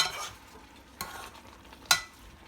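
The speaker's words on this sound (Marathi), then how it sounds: "तर ढवळून घ्यायचं आणि अजून आपण 10 मिनिटं कमी गॅसवर ते शिजवून घेऊया चांगलं" Malvani chicken sukka cooks in a pan in its own steam on low gas, a quiet sizzle broken by two sharp scrapes of a spoon stirring it.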